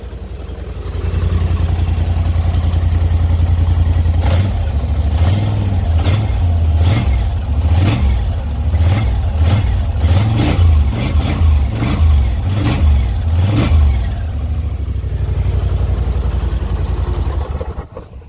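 A Polaris utility vehicle engine with a stock exhaust revs repeatedly in quick blips, its note rising and falling over a rumbling idle, loud and close.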